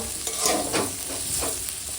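Beetroot and potato fry in oil with a green chilli tempering, sizzling steadily while a spoon stirs through the pan in soft, repeated scrapes, with no talking.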